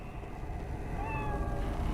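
In the Lost Odyssey video game, a cat gives a short rising meow partway through, faint over a steady low background hum.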